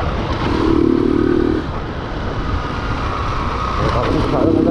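A small motorcycle riding along, its engine droning steadily with slight rises in revs, wind and road noise close by throughout.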